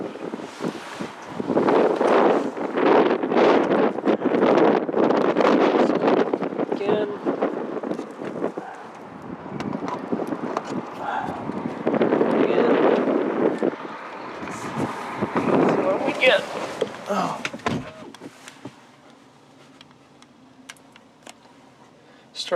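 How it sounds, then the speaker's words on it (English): Gusty wind buffets the microphone at an electric car supercharger station, roaring loudly in long swells for most of the stretch before easing off, with a few clicks and a brief voice over it. "Wind."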